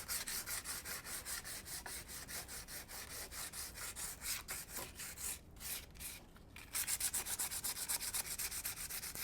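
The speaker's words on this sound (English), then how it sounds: "See how quick and easy that sands to create that distressed finish." Steady back-and-forth sanding of a chalk-painted frame to distress it, rhythmic rasping strokes close up, brief pause midway, then continuing strokes.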